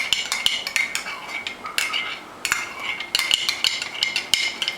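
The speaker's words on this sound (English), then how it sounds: "So we put it into the milk and stir until it's a whole mass without any pieces." Mixture stirred into milk in a bowl for Doukhobor pies, a spoon or whisk clinking and scraping against the bowl in quick, irregular bursts of close, bright metallic taps with short pauses between.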